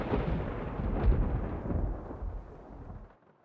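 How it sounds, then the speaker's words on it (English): Thunder from a lightning bolt in the Nancy Drew Legend of the Crystal Skull video game, a deep rolling rumble that swells and then fades out over a few seconds. "that bolt of lightning was huge"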